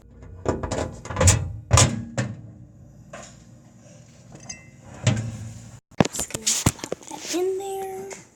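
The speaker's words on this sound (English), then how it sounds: "I'm just taking this water and putting it in the microwave." Water set into a microwave in a home kitchen, with clinks and thunks of a container and a door shutting, followed by a beep, close by and mixed with someone talking.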